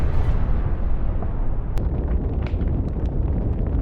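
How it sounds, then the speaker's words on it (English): A drone strike explosion setting a military vehicle alight: a loud, dense, continuous rumbling roar with crackling pops, sustained throughout. "One strike is enough to ignite the vehicles."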